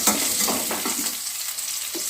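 Potatoes fry in a pan with a close, steady sizzle and crackle, broken by scraping stir strokes throughout.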